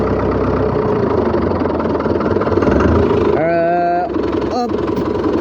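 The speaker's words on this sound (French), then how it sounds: "Il gueule, hein, c'est un tracteur là." A loud, steady tractor engine idles while warming up before maize hoeing, with a low, throbbing chug close by, and a brief voice rises over the rumble partway through.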